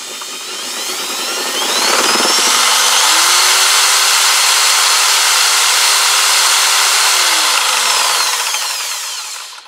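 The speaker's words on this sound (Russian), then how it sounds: "все запускаю с дрелью" An electric drill spins a homemade wind generator, its motor whine rising as it speeds up, holding a steady loud drone for several seconds, then winding down at the end.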